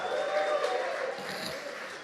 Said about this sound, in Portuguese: Dê um aplauso a Jesus, faça algum barulho